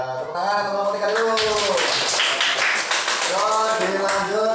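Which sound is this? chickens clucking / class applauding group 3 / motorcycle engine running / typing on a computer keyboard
class applauding group 3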